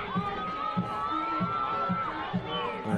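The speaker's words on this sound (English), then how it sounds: "the crowd's been awesome today" Crowd noise at a rugby league grand final between Otara Scorpions and Northcote Tigers, a steady roar with rising cheers and shouts under periodic rhythmic thumping, continuous throughout.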